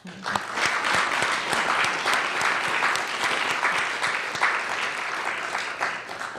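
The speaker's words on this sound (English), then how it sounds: "How about a round of applause?" Audience at the National Press Club in Washington applauding after a speech by the Mayor of Houston, sustained crisp clapping at an even level, with a few sharp individual claps standing out.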